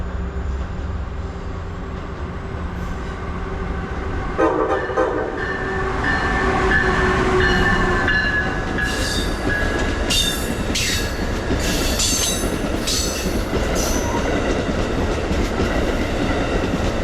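An Amtrak Regional passenger train passes a railfan spot at South Norwalk, Connecticut, a loud rumbling roll with clickety-clack over rail joints, wheel squeal and a short horn blast, building as it draws near and staying heavy.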